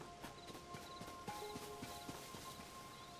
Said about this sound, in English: Is that horse gonna hear us?